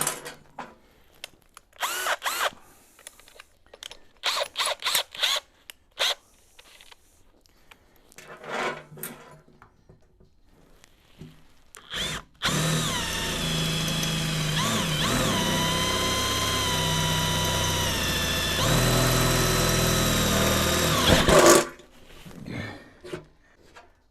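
A twenty-year-old aircraft drill bit bores through metal while building a custom lifting lug for a welder. Scattered clatter and handling knocks give way to about nine seconds of steady, loud whining drilling, then quieter knocks, with no talk.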